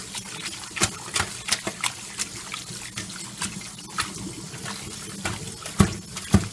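Clams being washed under a running tap in a sink, a steady trickle of water with irregular splashes and soft clacks of shells being handled, fairly close and without talk.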